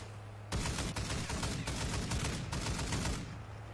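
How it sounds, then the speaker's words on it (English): A loud gun in a video game fires a sustained burst of rapid shots after a brief quiet start, then rattles on for about three seconds before cutting off. "That gun is incredibly loud"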